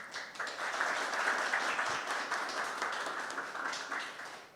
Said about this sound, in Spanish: presencia del escritor Rafael Chalhub Mejía, para quien pido un fuerte aplauso.